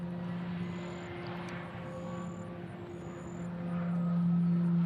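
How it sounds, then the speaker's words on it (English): A propeller plane flies overhead near Nashville International Airport, a steady droning engine hum with a tonal whine that swells louder toward the end, heard from the ground with no talking. "I hear a prop plane making a lot of noise"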